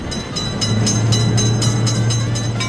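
In an Indian railway crossing video game, a train passes a level crossing with a continuous close rumble and faint regular wheel clicks, loud and alone throughout.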